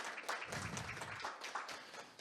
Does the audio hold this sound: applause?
yes